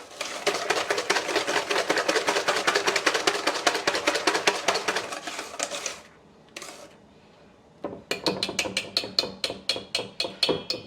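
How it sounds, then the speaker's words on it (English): A whisk beats banana bread batter in a bowl with fast, rhythmic scraping clicks, a dense run that stops for a couple of seconds, then resumes in sharper strokes. "I ended up switching over to the whisk instead of that spatula."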